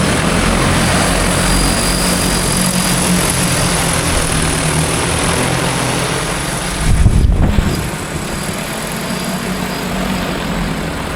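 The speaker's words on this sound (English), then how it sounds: "just swipe it and let the drone go to work" An agricultural spray drone flying over a pasture, its propellers giving a loud continuous buzzing whine that holds steady, then briefly swells and roughens as it passes near before settling back.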